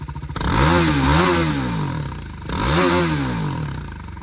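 A stock-exhaust BMW G310R motorcycle revved twice up close, each blip climbing and falling back toward idle, loud and clear with no talking.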